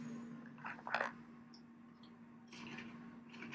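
Quiet crunchy chewing of crisp air-fried parmesan gnocchi, a few soft crunches close to the mouth, with a steady low hum underneath.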